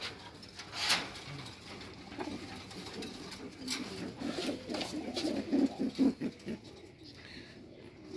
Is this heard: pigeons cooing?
yes